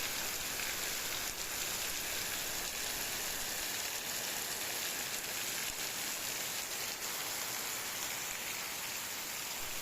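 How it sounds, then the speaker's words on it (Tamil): Steady, dense rainfall pouring down on a backyard garden with constant hiss and patter, loud and continuous throughout, no voices. "பெரிய மழை"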